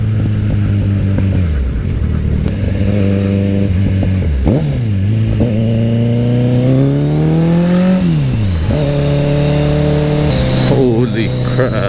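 A Kawasaki Z900 motorcycle engine pulls hard while being ridden, loud and close, revving up through the gears in rising sweeps with brief drops at each shift, steady and continuous throughout.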